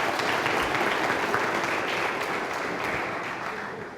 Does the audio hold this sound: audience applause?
yes